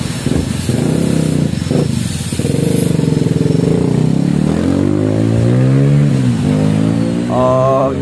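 A Suzuki Satria FU motorcycle with a bored-out stock SKR Racing exhaust revs hard and close, its engine note climbing and falling in repeated throttle sweeps with a steady raspy drone.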